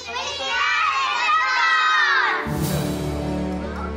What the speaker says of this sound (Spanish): ¡Qué fuerte que gritaron!